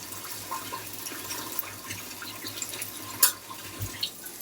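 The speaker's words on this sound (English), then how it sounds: "rinsing the pasta with cold water to stop the cooking process, which I just did" Cooked pasta rinsed under a cold running kitchen tap, a continuous moderate splashing stream with a few sharper clatters and splashes near the end, no voices.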